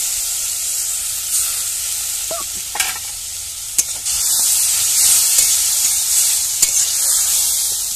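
Bitter gourd seeds and spices stirred together in a hot pan for a stuffing, a loud steady sizzle and hiss with sharp spoon scrapes and knocks against the pan, close up and without voices.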